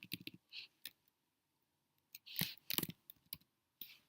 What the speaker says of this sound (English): double click on it